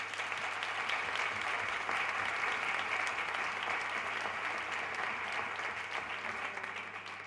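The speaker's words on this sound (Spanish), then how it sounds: "empezar con un aplauso para agradecerle ese esfuerzo" An audience at an ADHD association talk in Caravaca de la Cruz applauds steadily for the guest speaker, a continuous wash of many hands clapping in a hall, moderately distant, fading slightly at the end.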